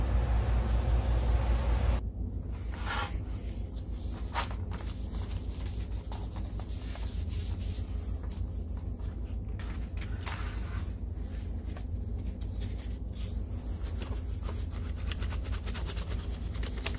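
Continuous scratchy rubbing and scraping as crud is cleaned off an Optoma TWR1693 DLP projector, close and steady for the whole stretch after a brief initial hum, with no talk.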